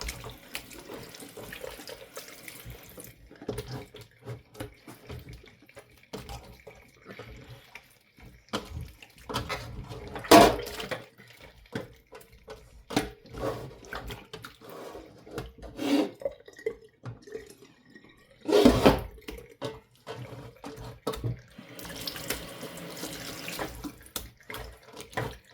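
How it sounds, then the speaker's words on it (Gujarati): Cold tap water runs over homemade butter as it is washed in a bowl for ghee, with a steady stream broken by louder splashes and sloshes as the butter is worked by hand. "આપણે છે ને એને મસ્ત મજાનું ધોઈ નાખવાનું ઠંડા પાણીએ"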